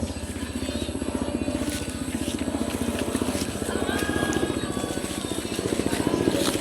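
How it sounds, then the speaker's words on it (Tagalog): A helicopter flies overhead, its steady rotor chop throbbing loud and continuous throughout, with faint voices and outdoor noise in the background. "Helicopter."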